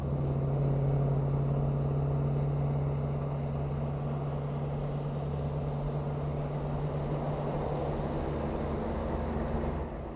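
A 2006 Freightliner Coronado truck with a Detroit 14-liter engine drones steadily from inside the cab, a constant low rumble at even loudness with no talk.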